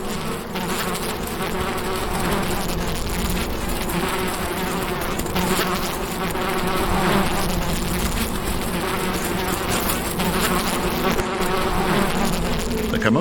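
A dense swarm of male desert bees in the Sonoran Desert buzzes loudly and continuously around emerging females, a thick, close, unbroken droning hum with no speech.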